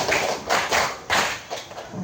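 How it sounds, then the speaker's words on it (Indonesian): A group claps together in rhythmic bursts at a training session, several loud broadband rounds of applause-like clapping rising and falling in quick succession, with no voices over it. "Tepuk 1, tepuk 2, tepuk 3, tepuk 4, tepuk 5."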